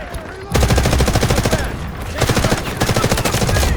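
Rapid automatic gunfire from the shooter game Delta Force rattles loud and close in dense sustained bursts, breaking off briefly and starting again.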